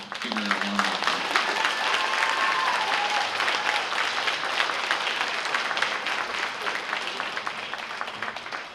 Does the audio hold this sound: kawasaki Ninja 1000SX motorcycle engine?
no